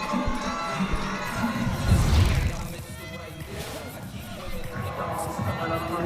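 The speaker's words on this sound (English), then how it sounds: "There is the San Jose State team cheering her on." The San Jose State gymnastics team cheers and shouts from the floor during an NCAA championship meet, a lively burst of crowd voices that swells then eases, with other arena noise around it.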